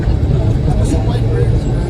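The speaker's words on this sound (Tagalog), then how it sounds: "Traffic." Road traffic on a drive from Malolos City to Plaridel, Bulacan in the Philippines, heard from inside a vehicle as a loud, steady engine and road rumble with voices talking over it.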